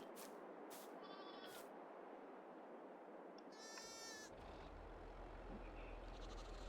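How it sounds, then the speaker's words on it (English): Several sheep bleat in short wavering calls on a farm, a few in quick succession then one louder bleat, over a steady outdoor background with distant vehicle rumble. "Yes, Mr. Sheep. They're so cool."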